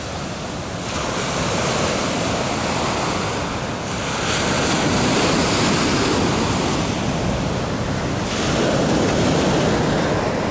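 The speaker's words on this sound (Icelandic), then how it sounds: "Magnað að labba hérna bara og vera við sjóinn." Ocean waves break on a South African beach, a loud, continuous roar of surf that swells and recedes in slow surges, mixed with wind buffeting the microphone.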